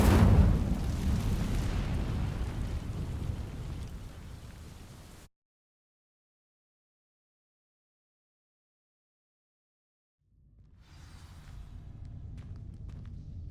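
The Incendio fire spell ignites dry vines in Hogwarts Legacy with a broad roaring burst that thins over several seconds, then cuts to silence before a softer crackling rumble returns.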